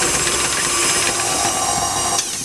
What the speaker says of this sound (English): While mixing, add eggs one by one and mix it on high speed.